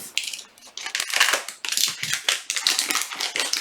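A small knife slices and saws through packaging, a run of rapid crackly, crinkling bursts and scratchy cuts in quick succession, close and fairly loud with no talk.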